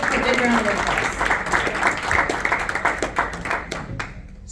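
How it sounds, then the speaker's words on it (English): An audience applauding a three-time world champion boxer at a talk, a dense burst of clapping under speech from the stage, loudest at first and thinning toward the end. "Let's give a big round of applause."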